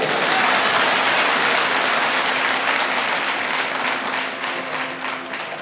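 A religious discourse audience applauding, a dense, sustained wash of many hands clapping together, loud and steady before slowly tapering toward the end.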